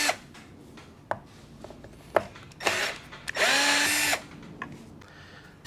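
A power drill backs screws out of a vehicle's underside during a bash plate install, with short whirring bursts, clicks and handling knocks, then one longer sustained whine up close.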